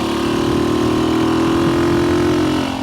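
A vintage 1964 Honda C200 motorcycle engine runs steadily while riding, with a loud, close, even hum that holds a constant pitch throughout.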